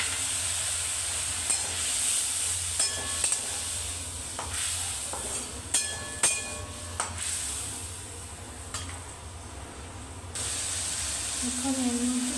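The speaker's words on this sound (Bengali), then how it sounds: "এখন আলুটাকে নুন হলুদ দিয়ে ভালো করে ভেজে দেব।" Potatoes with salt and turmeric, then soaked spices, fry and get stirred in a pan. A steady low sizzle runs under scattered scraping and clinking strokes from the spoon, with a brief hiss near the end.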